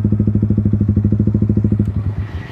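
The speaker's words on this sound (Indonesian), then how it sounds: "Pengalaman pertama pakai R15 motor kopling" A Yamaha R15 V3 manual-clutch motorcycle idles loud and close with a steady, rapid chugging pulse, then the beat breaks up and roughens near the end as the rider works the clutch.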